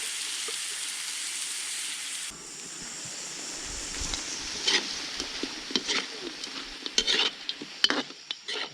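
Soy sauce poured over duck meat in a hot pan sets off a loud, steady sizzle that breaks into a louder crackle and bubbling, with scattered clinks from stirring.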